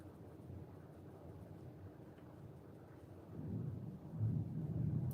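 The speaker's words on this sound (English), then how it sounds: "Can you guys hear the thunder?" Distant thunder from an outdoor storm rolls low and muffled for several seconds, swelling into a deeper, louder rumble near the end, with no voices present.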